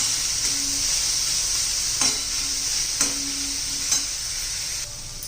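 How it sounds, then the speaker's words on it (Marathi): Grated coconut roasting in ghee while being stirred, a steady close hiss of sizzling with a few soft scrapes of the spoon against the pan, no voices. "मस्त असं परतून घ्यायचं आहे खोबरं तुपामध्ये"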